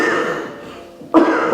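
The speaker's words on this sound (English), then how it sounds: "Sorry guys, I have a terrible cough." A single harsh cough bursts out close by near the end, following a stretch of raspy throat noise from a person with a bad cough.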